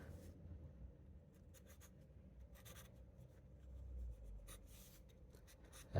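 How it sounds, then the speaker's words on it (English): Charcoal pencil drawing a portrait on paper, a quiet continuous scratching with short bursts of strokes over a low background hum, close and faint. "You can see while I'm drawing"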